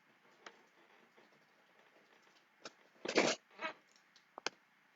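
Scissors cutting card stock at a card-making craft table, giving a brief rustling scrape and a few sharp snips, quiet and close, with no one talking.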